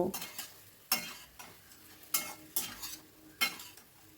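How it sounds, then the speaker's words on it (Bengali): Masala gets stirred with fried potato and bottle gourd pieces in a pan, soft frying hiss under repeated bursts of scraping and clattering from the spoon, roughly one stroke a second, fairly quiet and close. "দিয়ে দিচ্ছি ভেজে রাখা আলু আর লাউয়ের টুকরোগুলো দিয়ে আবারও সব কিছু ভালো করে মিশিয়ে নেব"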